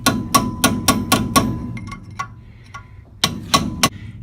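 A hammer taps tapered sleeves out of a big truck axle during a disc brake job: a run of six sharp metallic strikes at an even pace, a few faint clinks, then three more taps, close and clear.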